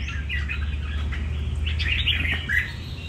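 A red-whiskered bulbul sings close and loud, its bright warbling phrases repeating over a steady low hum.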